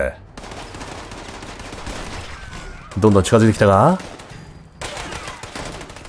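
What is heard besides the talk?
Gauss shotgun gunfire in Fallout 76 video game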